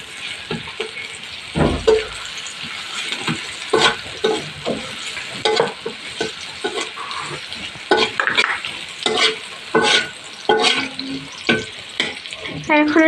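Food fries in oil in a pan with a bright, continuous sizzle broken by frequent scraping stirs and knocks of a utensil, close and fairly loud, with no talking.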